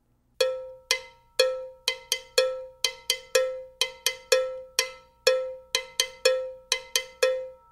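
A Latin cowbell is struck in a steady rhythmic pattern, alternating open ringing hits at the mouth with muted, higher-pitched strikes near the back, crisp, close and sharply attacked, with no talking.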